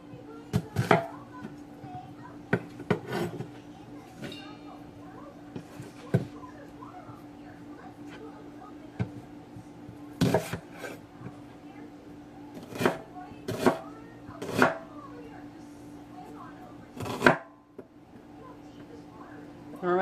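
A knife chops onions and celery on a cutting board in a home kitchen, with sharp, irregular thuds spaced a second or more apart, some in quick pairs, beneath steady quiet talk.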